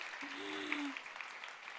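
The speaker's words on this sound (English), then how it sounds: "Give Brandon a round of applause, please." Audience applause at a World Food Day fireside-chat event on food as medicine, heard as a brief, faint patter of clapping. A voice sounds briefly near the start.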